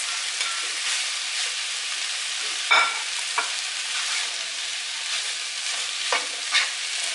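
Squash sizzles steadily in a hot pan as it is sautéed with vegetables for a chicken dish, a continuous frying hiss with a few louder stirring clacks and spits, close up and with no talking.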